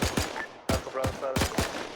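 Suppressing gunfire in the German Iron Front combat video game: rapid bursts of distant rifle and machine-gun shots in quick repeating volleys, with radio chatter faintly underneath.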